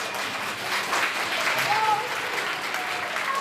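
Applause from an audience praising children at an event about recycling and waste, a steady wash of clapping running throughout, with a voice speaking over part of it.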